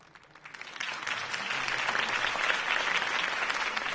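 Crowd applause in the Batman game episode Realm of Shadows, rising after a political campaign speech for Harvey Dent, a dense sustained clapping that swells and holds steady at moderate loudness without talk.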